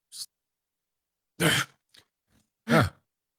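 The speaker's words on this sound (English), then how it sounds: "I clear my throat to get his attention" A man clears his throat in a few short, raspy bursts with pauses between them: one brief rasp, then two louder, fuller ones, close and dry, with faint small noises in the gaps and no speech.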